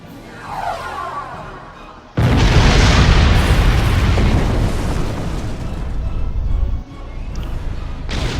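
Starship weapons fire exploding in Star Trek Online: after a quieter buildup a sudden loud blast erupts into a sustained roaring, crackling rumble lasting several seconds, then dips and continues.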